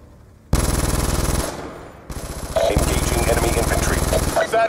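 Rapid automatic gunfire in Call of Duty Black Ops 2 on Xbox, loud and close, coming in two long sustained bursts separated by a short pause.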